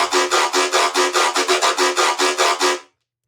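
A convolution reverb layer sits over a dry sample, giving a dense, bright wash pulsing in about fifteen even rhythmic hits before cutting off abruptly, loud and alone.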